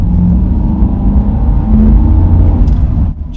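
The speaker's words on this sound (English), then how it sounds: "the sound, clean revving petrol V8" A 2007 Toyota Land Cruiser's petrol V8 revs loud and close in a steady, throaty drone, swelling slightly near the middle before dropping off abruptly just after three seconds.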